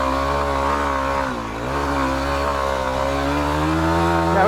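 An off-road vehicle's engine drones steadily in first gear as it climbs a steep sandy hill, loud and close, with the pitch dipping briefly then rising again under the strain.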